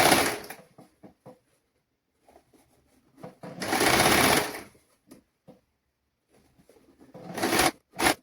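A sewing machine stitches girls' children's dress fabric in a tailoring class, running in a few short bursts and then two longer, loud, close stitching runs, with quiet handling noises in between.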